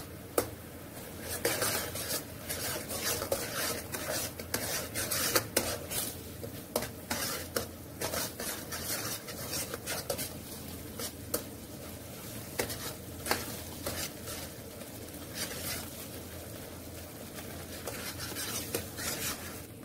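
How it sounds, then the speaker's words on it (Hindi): Roasted semolina is stirred into syrup in a pan, giving a steady scraping and soft sizzling with repeated utensil knocks against the metal, close and continuous with no voices. "अब इसमें डालेंगे सूजी जो भुनी हुई थी"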